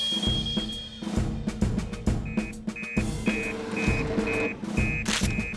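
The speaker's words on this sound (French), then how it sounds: "C'est encore l'alarme incendie de la supérette de Denise." A convenience store's fire alarm beeps in short regular pulses over a busy, noisy background of clattering and rumbling.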